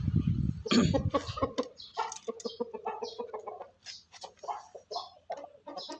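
A year-old fighting rooster clucks and calls repeatedly at close range, in irregular bursts of sharp, throaty sounds.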